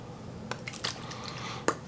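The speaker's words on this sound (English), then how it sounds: "we're gonna add our liquid, our water. This is just plain water." Plain water is applied to fine natural hair while styling mini twists, giving a few soft wet squishes and drips, brief and close, with one sharper splat near the end and no talking.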